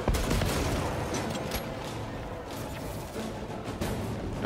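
Dense, sustained gunfire from a weapon in Warhammer 40,000: Space Marine 2, a continuous rattling barrage of overlapping shots with heavy low booms, loud throughout with no talking.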